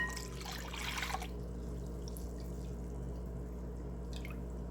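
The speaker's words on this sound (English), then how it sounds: "Now I'm adding the cold water." Cold water is poured into a pot for a cake glaze, giving a short splashing trickle at the start that fades into a few faint drips over a low household hum.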